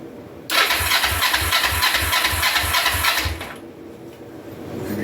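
The starter of a 2004 Kawasaki Vulcan 500 motorcycle cranks in loud, rhythmic pulses for about three seconds, then cuts off without the engine catching, leaving a low background hum.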